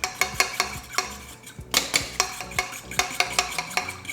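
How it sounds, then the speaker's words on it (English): A utensil stirs an agar powder mixture in a cooking pot, giving a steady rhythm of sharp metallic clinks and scrapes against the pot, close and clear with no talking. "So right now we put our agar powder and we need to mix it."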